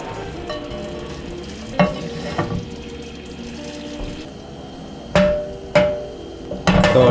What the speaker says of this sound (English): Yes, it's time for sauteing those Brussels.